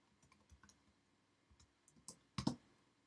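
Code is being typed on a computer keyboard: a sparse run of soft, quiet key clicks, ending in a few sharper, louder taps close by.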